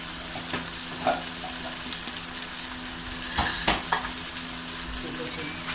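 Chicken pieces with chopped tomatoes fry in a pan, giving a constant soft sizzle broken by scattered sharp clinks and scrapes as a utensil stirs them.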